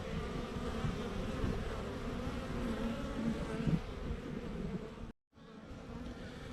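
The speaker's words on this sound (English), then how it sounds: "I love these bees." Honey bees buzz steadily around a strong hive in a treatment-free beekeeping yard, a dense close drone that holds until a brief dropout near the end, then resumes.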